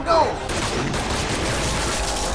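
Gunfire in a Supergirl TV episode: a short, loud burst of shots at the start, followed by a lingering noisy wash over a couple of seconds.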